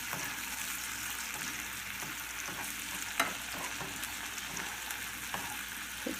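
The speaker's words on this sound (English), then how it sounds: "added the finely minced garlic and shallots to the butter and the 1 teaspoon of olive oil. And just saute this for a couple minutes" Minced garlic and shallots sauté in butter and a little olive oil in a pan, giving a steady, close, hissing sizzle with occasional soft stirring clicks and no talking.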